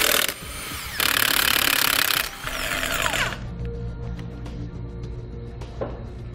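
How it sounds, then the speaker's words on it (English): A power tool with a 13/16-inch socket spins off trailer wheel lug nuts in loud, harsh rattling bursts, then quieter mechanical clatter and ambient shop noise follow. "We'll take off the 8 lug nuts using a 13/16-inch socket."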